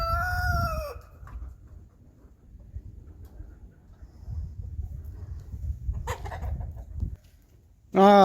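A rooster crows loudly at the very start and again at the end, with softer clucking and rustling from farm fowl in between.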